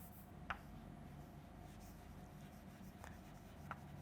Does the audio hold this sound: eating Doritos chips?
no